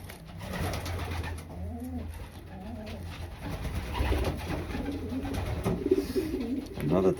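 Close, soft cooing from a racing pigeon held in the hand, recurring low rolling coos over a faint background murmur, with no clear speech.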